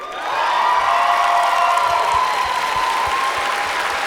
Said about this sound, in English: Let's have another round of applause for all of our contestants